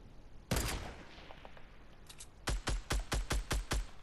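Shotgun blasts in the video game Fortnite: one loud shot, then a quick volley of about seven rapid booming shots in steady succession, close and punchy with no talking.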